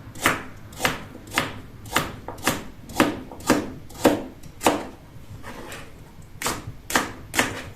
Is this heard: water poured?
no